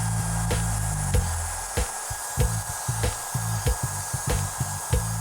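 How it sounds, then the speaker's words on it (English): Belt polisher with an 800 grit belt and polishing rouge buffing the journals of a crankshaft from a 408ci Windsor engine, a steady loud whirring hiss broken by a regular series of soft thumps roughly every half second. "Adding a little crank polishing rouge will allow us to buff the crank to a mirror finish."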